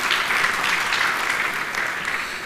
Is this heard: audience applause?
yes